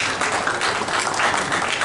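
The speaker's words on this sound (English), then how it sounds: "A big applause for him as well." Applause for Mr. Arif as he receives a shield at an auto parts industry ceremony in Pakistan, a dense, loud wash of clapping from a hall audience, continuous throughout.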